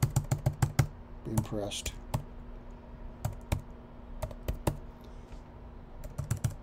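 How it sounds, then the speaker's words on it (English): Rapid keyboard typing during trading chart setup, bursts of sharp clicks at the start and scattered keystrokes later, with someone speaking briefly over them. "Yeah, he can type on some days."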